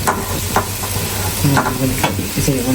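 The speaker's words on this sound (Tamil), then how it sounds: "கொஞ்சம் போட்டு போட்டு கிண்டி கிண்டி போடணும்" A spatula scrapes and stirs cut idiyappam in a hot pan in repeated quick strokes over a constant close sizzle, and no voices are heard.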